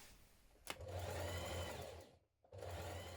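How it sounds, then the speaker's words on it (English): A sewing machine stitches shoulder seams with a 1 cm allowance on a summer skirt set, its close, steady motor whirring, dipping briefly to near quiet partway through, then picking back up. "with a 1 centimetre seam we're going to stitch those seams in place"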